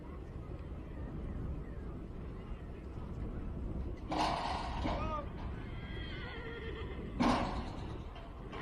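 A horse in a campdraft run neighs loudly twice, with faint hoof clip-clop and a steady broad outdoor rumble beneath.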